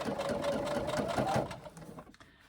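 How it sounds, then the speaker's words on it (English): A domestic sewing machine runs a steady, fast whirring stitch while top stitching the overlay on a carry-all tote bag, then stops after about two seconds. "I will be top stitching the overlay, so machine domestic on this one doesn't matter"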